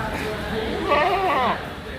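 A white goat at a Qurbani Eid cattle market gives one short, wavering bleat of about half a second, close by, amid crowd noise.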